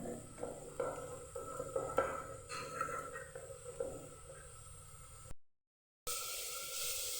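Masala being sautéed and stirred in a pan for a Bengali kochu ilish fish curry, with soft scraping strokes and gentle clinks repeating under a faint sizzle, before a brief cut to silence and a burst of hiss.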